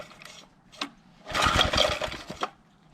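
A 53-year-old Toro Power Handle Snow Hound 20-inch snowblower attachment engine tries a cold start, catching in a short, rough burst of sputtering firing pulses for about a second before dying back to near silence. Close and fairly loud.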